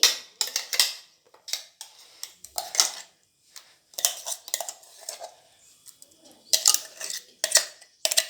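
Freshly ground chutney being transferred into a bowl in a home kitchen: a scattered series of sharp clinks and scrapes of a utensil against the bowl, close and fairly loud, with quiet gaps between taps.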